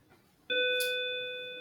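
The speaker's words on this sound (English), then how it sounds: "Oh, there's the bell." A school bell marks the end of class with a single loud electronic chime that strikes sharply and then rings on as a steady sustained tone, slowly fading, with no voices.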